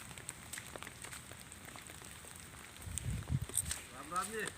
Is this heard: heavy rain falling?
yes